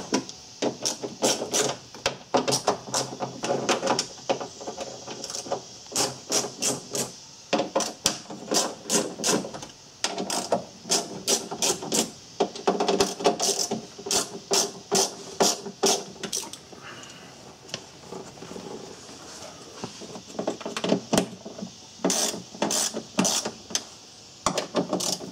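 7mm bolts come out of the inner door panel of a Chevy Suburban: close, rapid mechanical clicking in irregular rhythmic bursts that continue almost throughout, with brief pauses.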